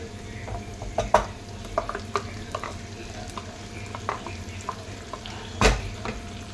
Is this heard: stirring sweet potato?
yes